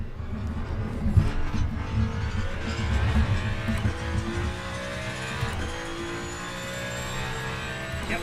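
A race car engine in the racing game Le Mans Ultimate roars and revs continuously, shifting pitch as it accelerates and downshifts, loud and close throughout with no talking.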